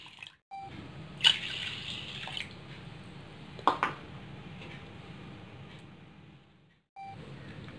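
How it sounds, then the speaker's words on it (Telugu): Water pouring from a cup onto washed toor dal in a vessel, a soft steady trickle with a few small splashes, faint and close with no talking. "2 కప్స్ వాటర్ పోస్తున్నాను."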